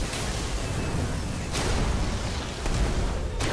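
An energy beam fires from a giant eye in the video game Destiny, booming and crackling in heavy bursts over a low rumbling background. Two stronger surges hit about a second apart.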